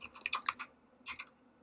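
Quick bursts of typing on a computer keyboard, close and crisp: a cluster of clacking keystrokes, a short pause, then a few more taps, with no talking.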